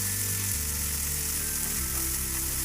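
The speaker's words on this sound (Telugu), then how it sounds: "మీ రుచికి సరిపడా కారం, కాస్త ఉప్పులను కూడా వేసి కలుపుకొని పచ్చివాసన పోయే వరకు వేగిద్దాం." Chole masala frying in a pan with chili powder and salt stirred in, a steady close sizzle and crackle running throughout with a low hum beneath and no talking.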